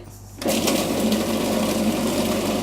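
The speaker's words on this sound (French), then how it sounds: "On va les mettre dans le mixeur." A food processor starts abruptly and whirs steadily at high speed as it purees three fish for a mousse, a loud continuous motor drone.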